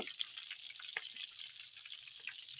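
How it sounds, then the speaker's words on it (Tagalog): Longganisa sausage fries in a pan, giving a continuous bright sizzle with small crackles and a few sharper pops, steady and fairly close, with no talking. "Tayo po ay nagluluto ng longganisa"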